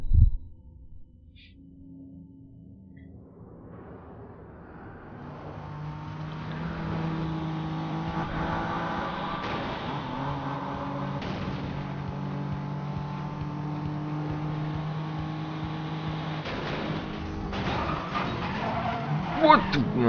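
A BMW in Need for Speed Most Wanted builds from quiet into a sustained engine drone with tires squealing through a long drift, steady and fairly close, ending with a couple of sharp knocks.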